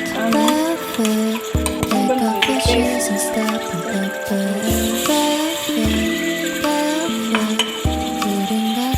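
Masala frying in oil in a pan for chicken biryani, loud close sizzling broken up by repeated scraping and clinking of a spoon stirring against the pan.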